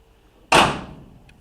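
A Chevrolet Nova car door shuts once with a solid, close thud that rings briefly and fades, followed by a faint small click.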